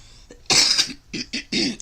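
A woman with a cold coughs close to the microphone, one sharp loud cough followed by three shorter ones in quick succession, with no talking.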